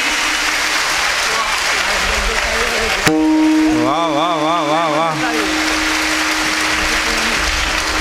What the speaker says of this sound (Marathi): माता वर्ग टाळी.